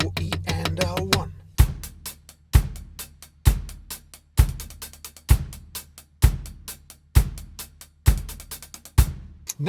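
Drum kit groove with the hi-hat playing 32nd notes on beat four: a steady pattern of sharp, bright accented hits with rapid hi-hat bursts filling each fourth beat, loud and close, with no talking over it.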